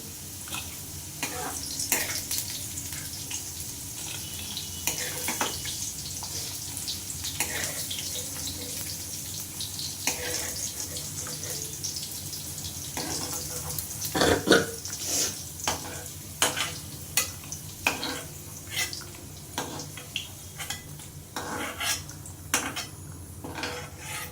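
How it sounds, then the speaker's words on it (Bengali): Potatoes fry in oil in a home kitchen, a constant soft sizzle broken by frequent clinks and scrapes of a utensil stirring against the pan, with a louder clatter near the middle. "দেখো আলুটা ভাজা হয়ে গেছে আমি আলুগুলো তুলে নিচ্ছি"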